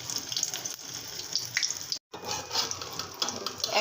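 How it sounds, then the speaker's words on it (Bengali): An egg frying in hot oil crackles and sizzles steadily at close range, a hissing, spattering texture that cuts out briefly midway before resuming. "আমি ডিমটা ভেজে নেব।"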